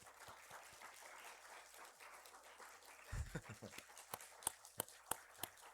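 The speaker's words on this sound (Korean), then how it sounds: "환영의 박수 한번 하겠습니다" A church congregation at a Sunday morning service claps to welcome a returning member. The applause is faint and sparse, building from a murmur into a few distinct, separated claps near the end.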